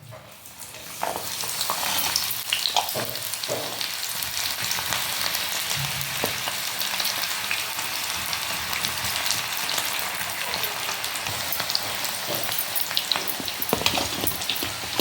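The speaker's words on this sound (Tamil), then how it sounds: "எண்ணெயும் காஞ்சிருச்சு பாருங்கள் பக்கோடா போட்டு எடுத்துக்கலாம்" Onion pakodas dropped into hot oil in a kadai set off a loud, dense sizzle that swells after the first second and bubbles and crackles continuously throughout.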